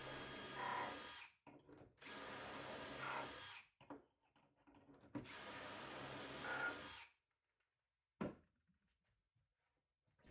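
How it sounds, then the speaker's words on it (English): A power drill bores shelf pin holes through a Jessem dowelling jig into a wooden cabinet panel, several steady whining bursts of a couple of seconds each, separated by brief pauses and quiet handling noise, close and alone. "while you drill out the holes with your other hand"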